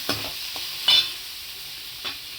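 Onions and a green chilli frying in a pan for an egg thokku, a short close sizzle with a few sharp stirring scrapes and one louder burst, no voices.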